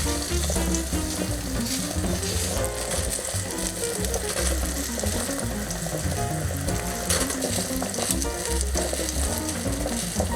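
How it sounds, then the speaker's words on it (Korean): Guanciale sizzles and crackles steadily in a pan over medium-low heat, with a dense, continuous frying hiss and a rattling mechanical texture layered over it throughout, close and loud. "관찰레를 중약불로 가열합니다"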